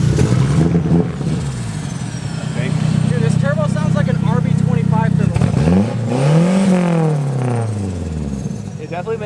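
A homemade Ka-T car engine revs on a dyno, rising and falling through several loud accelerating sweeps close by, with people talking over it.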